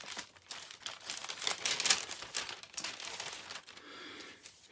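A plastic bag sealed with tape is opened up close, giving a stretch of quiet, irregular crinkling and rustling that swells to a sharper burst of crackle before fading into softer handling.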